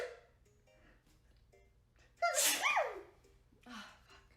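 A single sharp sneeze bursts out after a quiet stretch, loud and close, with a softer breathy follow-up moments later.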